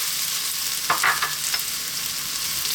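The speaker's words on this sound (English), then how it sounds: "In goes the steak, sliced again." Sliced ribeye steak hits a pan on lively heat for a steak sandwich, sizzling loudly and continuously, with a few scraping stirs and clatters of the pan near the middle.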